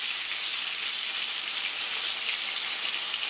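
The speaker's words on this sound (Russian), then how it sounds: "Вот сейчас самое время добавить сюда ложку соевого соуса." Vegetables fry in a pan just after a spoonful of soy sauce goes in, giving a loud, dense, continuous sizzle, like rain on a surface, with no talking.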